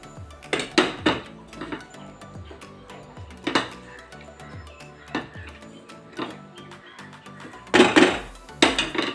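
Ground urad dal batter mixed by hand with onion, green chilli, cumin and salt in a bowl, giving intermittent sticky clinks and squelches in short bursts, fairly close and quiet, with no talking.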